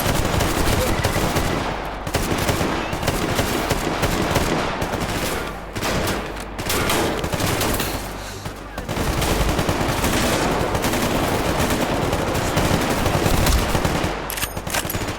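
Sustained automatic gunfire fills a survival video game firefight with exosuits, loud and dense, with rapid bursts and brief lulls near six and nine seconds.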